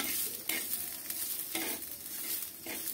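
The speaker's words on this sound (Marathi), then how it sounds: "अद्रकचे 2-4 तुकडे टाकून घ्यायचे आहे आणि लसण घालायचं आहे आणि तो सुद्धा कमी फ्लेमवर भाजून घ्यायचा आहे।" Ginger pieces and garlic roast over a low flame with a steady, close sizzle, with several brief scraping stir strokes breaking through at irregular intervals.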